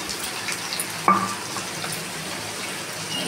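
Greens frying in a pan, stirred now and then, make a soft continuous sizzle with a sharper clink or scrape early on, close and moderately quiet, with no talking.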